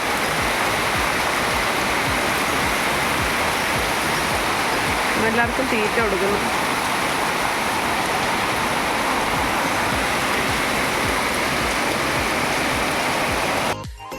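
Heavy afternoon rain pouring in a steady, roaring hiss near a cattle shed, constant and loud throughout, with a person speaking briefly over it.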